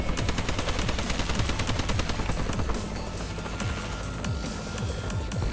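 Collector's edition pistol firing in Advanced Warfare multiplayer, a rapid run of sharp loud shots for the first half, then quieter distant gunfire and booms in the background.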